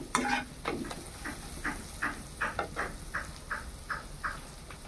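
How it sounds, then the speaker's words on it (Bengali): Spice masala with coriander powder fries in a pan for a pomfret curry, with a soft sizzle under a steady rhythm of spatula scrapes and stirring strokes. "ভালোভাবে মশলাটা কষিয়ে নিচ্ছি"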